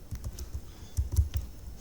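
Keys clatter on a computer keyboard as a project title is typed, a quick uneven run of soft clicks and taps with a few heavier strokes, close and alone with no voices.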